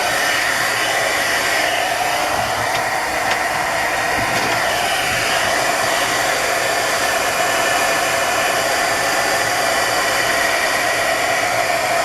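A hair dryer blows steadily and loudly on a painted paper craft tag, a constant whooshing roar with no pauses from start to finish.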